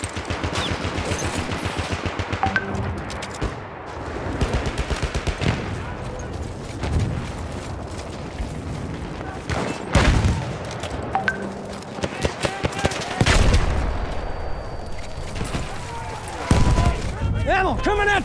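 Enemy machine gun fire in the video game Battlefield 1 rattles in long dense bursts, mixed with scattered gunshots and heavy booms in a chaotic battle, while voices shout over the din.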